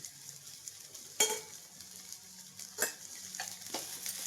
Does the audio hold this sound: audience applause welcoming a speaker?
no